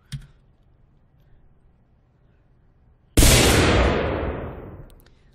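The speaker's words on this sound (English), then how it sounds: "if I place this satchel charge here, by default, after 3 seconds, the satchel charge will explode." A satchel charge detonates in a video game: after a few seconds of near silence and a faint click, one sudden loud blast erupts and its roar trails off over about two seconds.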